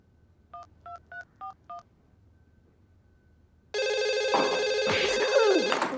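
Five quick touch-tone beeps of a phone being dialed, a pause, then a loud, steady electronic ringing tone takes over.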